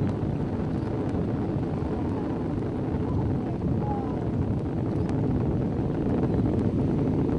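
Space Shuttle Atlantis rises on its three main engines during the STS-132 launch, a dense, unbroken low roar and rumble with wind buffeting, heard from a distance and loud throughout.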